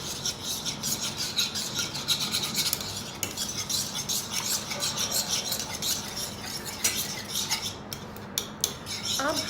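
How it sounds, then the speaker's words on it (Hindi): Whisk rattling rapidly against a bowl as kadhi batter is mixed with garlic, a dense scraping clatter running continuously and close, with a few sharper clinks near the end. "let's do the whisking again"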